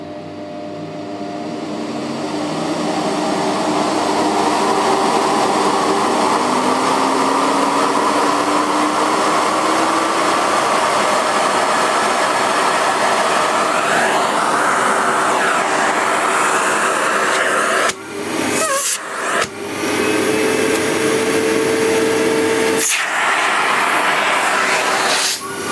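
A Sebo C1 cylinder vacuum cleaner runs at its lowest power setting, a loud steady motor whir with airflow hiss that rises in pitch as it spins up, briefly dipping twice near the end.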